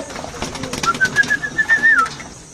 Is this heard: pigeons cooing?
yes